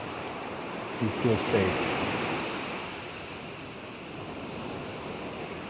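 Ocean surf washing in as a broad, steady wash of noise, swelling slightly then settling, with a calm voice speaking briefly over it.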